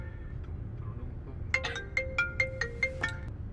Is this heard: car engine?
no